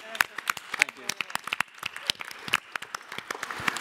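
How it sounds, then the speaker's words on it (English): A small conference audience claps in scattered, uneven bursts, sharp individual hand claps close by rather than a dense roar. "So let's give him a round of applause."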